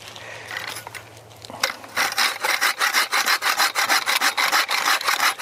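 Filzer Buckster bow saw cutting through a roughly 3-inch hunk of firewood: after a brief handling noise, close, loud rhythmic rasping strokes repeat steadily back and forth, with no talking.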